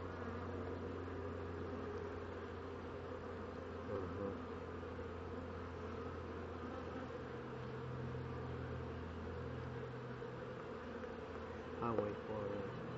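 A steady, dense hum of many honeybees buzzing close by at a hive while a new queen is introduced continues throughout, with a few faint knocks and shifts in the drone.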